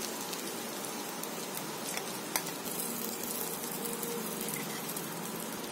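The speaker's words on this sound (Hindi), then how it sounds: "और इस तरह सारे कबाबों को फ्राई कर लें" Mutton shami kababs fry in oil with a continuous, fairly quiet hissing sizzle, close by, steady throughout with one brief sharp click midway.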